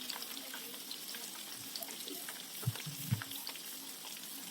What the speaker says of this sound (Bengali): এইভাবে কিন্তু কোট করে গরম তেলে দিয়ে ভেজে নিতে হবে।